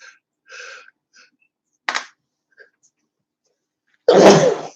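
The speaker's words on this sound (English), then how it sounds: "I've got a sneeze" A single loud, sharp human sneeze bursts out near the end, after a few faint breaths and small mouth sounds in otherwise quiet surroundings.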